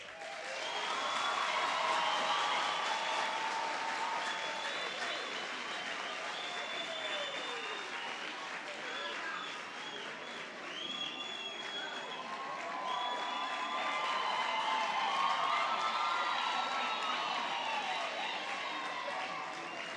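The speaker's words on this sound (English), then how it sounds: "sing, clap, scream as we clap as a sign to show our appreciation" A large crowd at a graduation ceremony claps and cheers continuously, with whoops and screams rising over the steady applause, swelling again toward the end.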